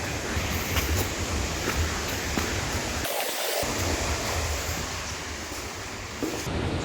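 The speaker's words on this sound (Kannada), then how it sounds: "ಈಗ ಮಳೆ ಹನಿತಾ ಇದೆ." Light rain falls steadily in the Western Ghats as a dense, even hiss of drops close around, with one brief dip near the middle before the wash of rain returns.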